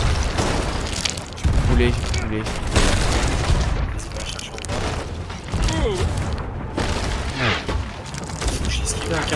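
Repeated booming cannon fire from Sea of Thieves, several heavy blasts mixed with in-game action and clatter, with people talking over the noise.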